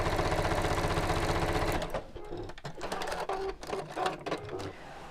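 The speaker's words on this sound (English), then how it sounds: "I'm just going to top stitch across the top." A sewing machine top stitching across a purse runs fast and steady for about two seconds, then stops, followed by quieter handling clatter and fabric rustle.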